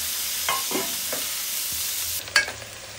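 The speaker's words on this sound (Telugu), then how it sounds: "ఆనియన్స్ అయితే కొంచెం ఫ్రై అయిపోయాయి" Onions frying in a nonstick pan hiss in a steady, close sizzle, with a few stirring scrapes and a sharp clink near the end.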